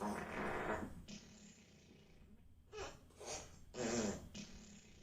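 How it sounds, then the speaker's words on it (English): Fart sound effects from an Alexa smart speaker, several separate rasping bursts in quick succession, moderately loud against a quiet room. "Here comes a serving of 17 farts."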